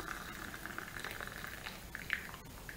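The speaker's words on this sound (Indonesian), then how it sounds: "kita rebus hingga mendidih" Celery leaves boiling in a pot of water for an herbal drink, a soft steady bubbling and pattering hiss with occasional small pops, quiet and continuous.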